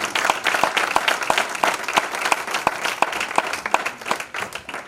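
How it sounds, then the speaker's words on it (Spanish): A church congregation claps for the Lord during a sermon by an apostle, steady dense applause with sharp individual claps standing out, sustained and fairly loud throughout. "Dale un aplauso al Señor"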